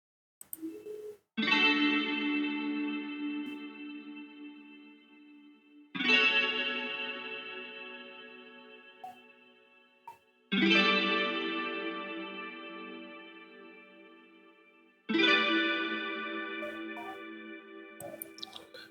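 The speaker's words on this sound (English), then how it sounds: "It is the string electric guitar 50s NUC from Morphin." Virtual 1950s-style electric guitar sampled instrument with chorus, flanger and reverb effects, four sustained strummed chords spaced evenly, each ringing out and slowly decaying with a shimmering tail.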